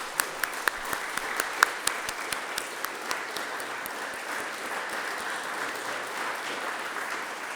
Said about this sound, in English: I think everyone can join me in a round of applause.